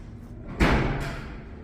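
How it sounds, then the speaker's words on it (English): A door at a college building in Christ Church, Oxford swings and shuts with a single heavy thud, close and loud, followed by a brief softer knock and low background noise. "Someone's just come out of the slipe door."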